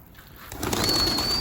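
Pigeons coo in a coop, a low murmuring swell that grows louder after a quiet start, with a thin high whistle-like tone running over it.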